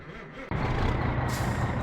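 An old truck engine in the game My Summer Car cranks and catches at about half a second, then settles into a loud, rough, steady idle with a faint hiss alongside.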